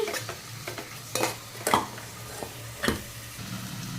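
Raw prawns fry in a pan while a spoon stirs them, a continuous close sizzle punctuated by several sharp scrapes and clacks of the spoon against the metal, with no voices.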